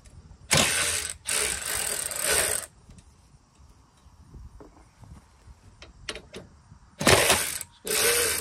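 A DeWalt 3/8 cordless electric ratchet runs in loud close whirring bursts, two long runs, a quiet stretch with faint clicks, then two more short bursts.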